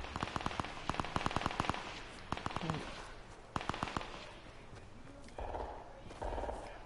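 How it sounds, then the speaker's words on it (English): Rapid bursts of gunfire in a hide-and-seek shooter video game, sharp cracking volleys in quick clusters, then scattered single shots and duller thumps toward the end. "I hear that shooting"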